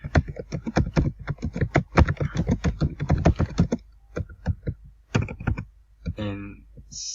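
Rapid clicking of computer keyboard keys as text is typed, a dense burst of keystrokes that pauses and resumes briefly, close and moderately loud, with someone speaking around it.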